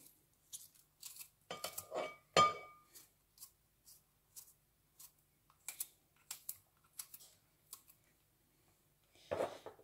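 A knife slices through a garlic clove on a cutting board, giving a series of short, crisp chopping taps in an uneven rhythm. The strokes are close and distinct with quiet gaps between them, and no one speaks.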